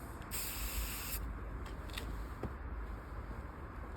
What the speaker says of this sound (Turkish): Biraz da beze sıkıyorum.